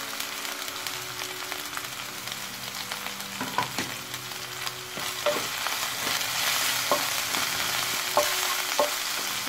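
Potato filling for vada pav frying and sizzling in a pan while it is stirred, with scattered spoon knocks and scrapes over a continuous close-up hiss.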